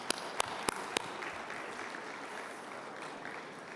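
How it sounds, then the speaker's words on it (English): A forum audience claps softly and at a distance, a thin even patter of applause, opened by four sharp isolated claps or knocks close by in the first second before the wash settles into a steady low rustle. "So I want to give a round of applause for you guys"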